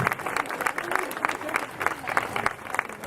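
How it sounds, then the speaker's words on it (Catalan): Audience applause at a festival welcome presentation, a steady crackle of many hands clapping continuously for a few seconds, fairly close and full. "Per tant, un altre fort aplaudiment."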